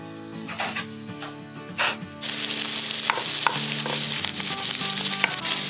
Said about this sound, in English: You're going to cook the bacon until it's browned and a little crispy.